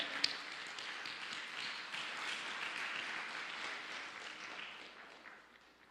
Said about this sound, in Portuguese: Pode aplaudir o Senhor com alegria.